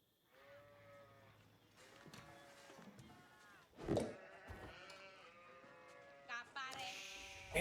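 Sheep in a joust match of a strategy video game bleat repeatedly, the tonal calls rising and falling in several overlapping bursts over a steady background hum, with a louder impact-like burst midway and a chime near the end.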